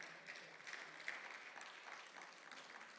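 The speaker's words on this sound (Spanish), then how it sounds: "¿Cuánto le dan un fuerte aplauso al Señor, por favor?" Faint, steady applause from a congregation at a Thursday Bible study, sustained clapping with no talk over it.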